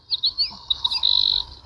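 Recorded birdsong plays from the built-in nature-sound function of an Oceanic massager: several bright chirps and tweets followed by a rapid trill, clear and close, with no talk over it.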